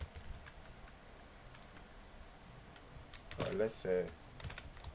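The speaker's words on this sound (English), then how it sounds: "I'm just going to type this." Soft, rapid keystrokes on a computer keyboard tick along steadily at close range, with a voice speaking briefly near the end.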